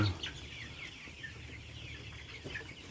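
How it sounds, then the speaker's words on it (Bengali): About 2,700 colour broiler chickens, 35 days old, cluck and chatter steadily in a poultry farm shed, forming a dense, continuous flock murmur at moderate distance. "এখানে দু হাজার সাতশো পিস কালারবাট মুরগি আছে"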